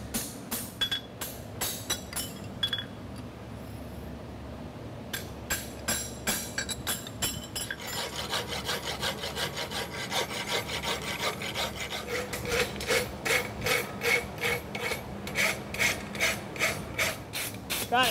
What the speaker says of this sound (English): Got it rasped up